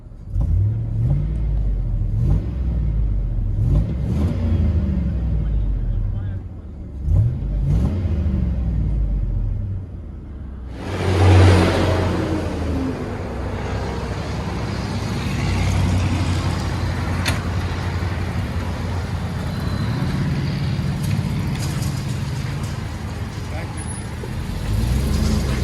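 Inside the cabin of a 2002 Chevy Suburban with a 5.3L V8 and Flowmaster Delta 40 exhaust: a deep steady engine rumble with a few revs that swell, then a strong acceleration that builds and holds a loud drone.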